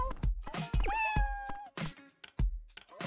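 A cat in the Dave the Diver video game meows several times in quick succession, loud and close, with short cries and one longer drawn-out meow in the middle.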